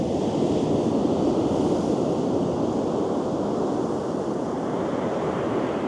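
Ocean surf washing on a beach as the tide goes out during a Christmas fishing trip, a constant broad roar mixed with wind buffeting, with no talk.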